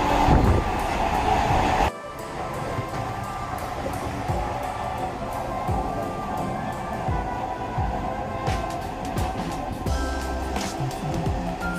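Inside a Siuri–Sealdah MEMU carriage with no reserved or AC compartments, a continuous loud rumble and rhythmic wheel clatter run on, with faint passenger chatter and crowd noise in the background.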